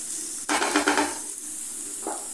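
Chicken frying in a pan sizzles steadily, with a burst of stirring and scraping near the start and a brief clatter near the end, close and fairly loud with no voices.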